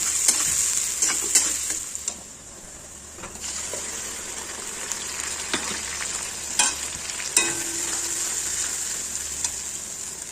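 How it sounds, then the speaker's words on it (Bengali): Onions frying in a pan for chicken biryani: a steady, close sizzle runs throughout, broken by sharp clicks and scrapes of stirring, with no one talking. "পেঁয়াজটা ভাজবো, একটু হালকা ভাজা হলে মশলা দিয়ে দেবো।"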